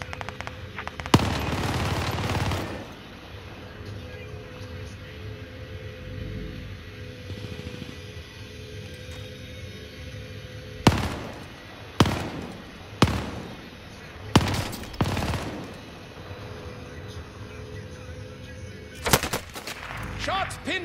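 Machine gun fire in the video game Call of Duty: Modern Warfare comes in loud, sharp bursts: one early volley, then a cluster of separate shots later, over a quiet game background.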